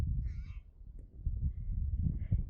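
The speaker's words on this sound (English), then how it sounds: "I hear something over there. Is that a bird?" A crow caws a few times outdoors, faint and distant, over steady low rumbling background noise.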